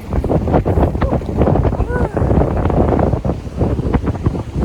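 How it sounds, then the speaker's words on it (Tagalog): Gusty, cold wind pummels the microphone with loud, rumbling bursts near a beach in Casiguran, Aurora, and a brief high voice can be heard faintly underneath. "Kaso, grabe yung hangin ang lamig."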